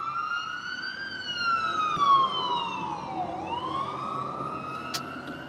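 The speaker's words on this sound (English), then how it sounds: "Oh, I think maybe it's a fire truck." A fire truck siren wails steadily on a street, its pitch sliding down and back up as it passes at moderate distance, with a low road rumble underneath and no talking.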